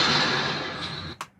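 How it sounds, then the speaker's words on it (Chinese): A door slam has been pitched up and heavily compressed into a bright, hissing flash like the Ultraman Beta Capsule transformation effect. It is a loud burst that fades over about a second, followed by a short sharp click. "做成了很像那个贝塔魔棒噼那个闪光的声音"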